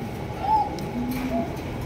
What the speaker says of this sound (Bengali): অনেক সুন্দর একজন নান কবুতর